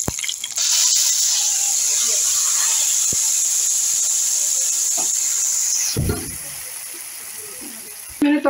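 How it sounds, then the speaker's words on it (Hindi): Tempering of curry leaves, whole chillies, fenugreek and cumin in a small saucepan, sizzling as a bright, loud hiss that starts abruptly, holds steady for about five seconds, then cuts off amid clattering. "मैंने तड़का लगा दिया"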